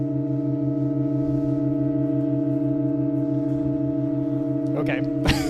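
Eight-note sustained organ chord from John Cage's As Slow as Possible in a medieval German church, droning steady and unchanging, with a few faint clicks and rustles near the end.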